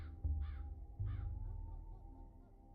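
Crows cawing in the video game Pathologic 3: three harsh caws, two in quick succession and a third a moment later, fairly close, over a low rumbling ambience.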